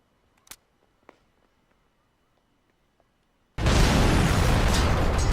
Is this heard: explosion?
yes